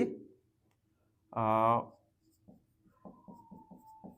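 A pen scratches across paper in short, quiet strokes, writing an answer during a seventh-grade geometry lesson on lines and angles, after a brief spoken phrase from the teacher.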